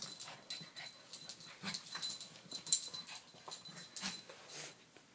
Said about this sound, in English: Fighting dogs.